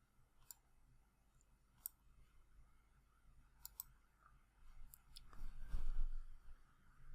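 Sharp, isolated clicks of keys on a computer keyboard, a handful of quiet taps spaced a second or more apart, followed by a soft rustling thump near the end.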